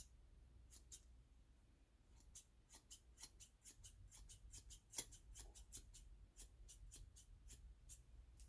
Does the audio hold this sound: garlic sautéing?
no